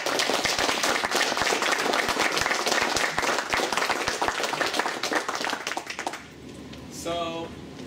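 A conference audience applauds at the end of a talk, many hands clapping in a dense, steady burst for about six seconds before it stops abruptly and a voice speaks briefly.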